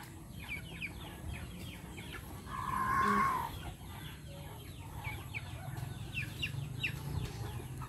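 Chickens and roosters cluck softly at a distance, with one louder drawn-out call rising in the middle against a quiet outdoor background.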